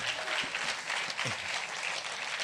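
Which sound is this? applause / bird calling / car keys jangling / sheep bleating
applause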